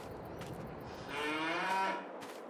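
Cattle in a cow area on the Court Farm map in the Farming Simulator 22 video game let out a long, drawn-out moo in the middle of the clip, heard fairly close over quiet ambience.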